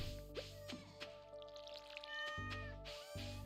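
A cat in the Stardew Valley farming game meows a few times over steady background music, short close mews with soft droplet-like effects between them.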